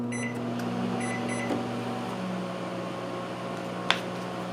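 A Panasonic NN-SC67NS inverter microwave oven runs with a steady electrical hum and fan whir, a few faint beeps near the start and a sharp click toward the end.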